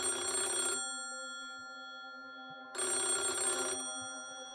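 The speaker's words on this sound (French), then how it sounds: "Et tout a commencé avec ce coup de fil." An old-style telephone bell rings in two loud bursts separated by a pause of roughly two seconds, set in a Minecraft film with no talking.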